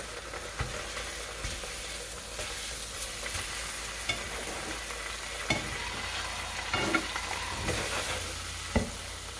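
Canadian bacon and an egg frying together in a pan, giving a soft, steady sizzle with scattered light scrapes and clicks from stirring, fairly quiet and close, with no voices.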